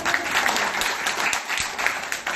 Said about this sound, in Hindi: एक और जबरदस्त तालियां परमपिता परमेश्वर के लिए